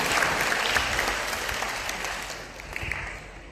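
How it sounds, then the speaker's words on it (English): A convention audience gives a round of applause, a dense wash of clapping that starts strong and gradually thins and softens over a few seconds. "Let's give her a round of applause."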